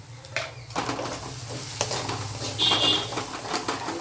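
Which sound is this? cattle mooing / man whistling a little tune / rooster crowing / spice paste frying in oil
spice paste frying in oil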